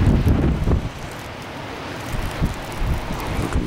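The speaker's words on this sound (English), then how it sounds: "Quite windy and blustery and snowy." Strong, blustery wind with snow sweeps the Lake Superior shore at Whitefish Point, buffeting the microphone in loud rumbling gusts that rise and fall, with no talking.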